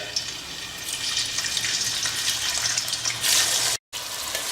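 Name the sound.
chopped onions frying in hot oil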